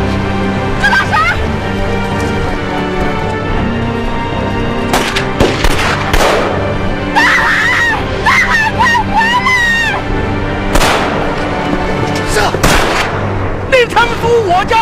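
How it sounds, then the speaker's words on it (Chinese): Several sharp gunshots ring out across a tense seaside scene in a Chinese period drama set during the migration to Northeast China, loud bursts scattered among shouting voices and background commotion. "大海，别开枪，别开枪"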